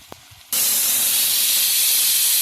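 Pressure cooker on a home stove making tomato bath, suddenly releasing a loud, sustained hiss of steam that continues steadily after a few faint knocks.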